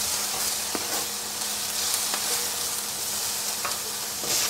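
Spices tipped into a hot frying pan of meat patty mixture sizzle steadily in a loud, continuous hiss, with a few sharp clicks of stirring scattered through, alone with no voices.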